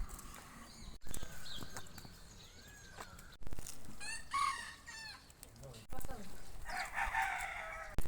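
Chickens cluck and call inside a coop, with a rooster crowing, close by over low background rustling and faint voices.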